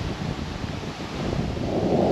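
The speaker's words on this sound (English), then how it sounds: "It's so windy." Strong wind gusts rush and buffet across the microphone beside a creek during fishing, a loud broadband roar that swells toward the end with no talk.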